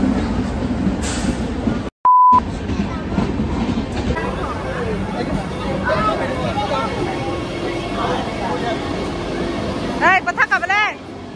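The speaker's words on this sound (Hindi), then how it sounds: "ये रहा कोकराझार रेलवे स्टेशन।" Train at Kokrajhar railway station: a steady rumble and rattle of rail traffic, with a brief squealing burst near the end and voices talking over it.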